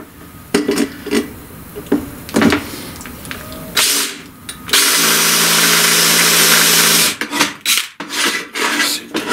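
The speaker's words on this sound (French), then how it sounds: "Ici, il faut faire un trou pour le ressort." A power drill bores a hole through the metal of a trailer crank winch being modified for a spring, heard as a loud steady grinding run of a few seconds after short scraping and handling knocks, close up with no talk.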